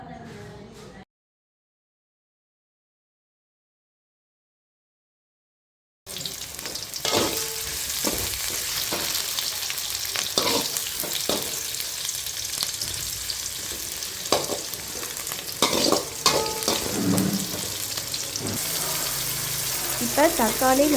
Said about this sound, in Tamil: இப்போ தக்காளி, வெங்காயம், பச்சை மிளகாய் இது எல்லாமே நல்லா வதக்கிக்கணும்.